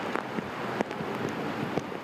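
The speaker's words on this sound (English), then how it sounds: "it was a very rainy and a very windy day" Blustery wind buffets the microphone beside a flooded road during a heavy rainstorm in Spring Valley, San Diego, a rushing noisy roar with a few sharp gusts and no one talking.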